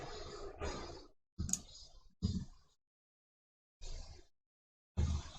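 Computer mouse clicks, a handful of short, soft taps spaced unevenly with silent gaps between them, close and quiet.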